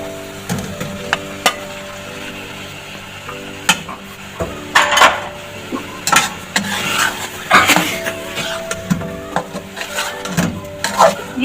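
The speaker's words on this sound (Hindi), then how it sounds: "अब हम इसमें चिकन ऐड कर लेंगे।" Chicken going into fried masala in a cooking pot for chicken biryani, with scattered clanks and scrapes of a utensil against the pot over a low background hum.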